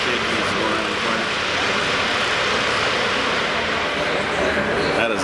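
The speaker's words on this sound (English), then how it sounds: "A lot of rattling and shaking going around the corner." A Zamboni ice resurfacer rumbles and rattles with steady, loud broadband noise as it shakes its way around the corner of a hockey rink.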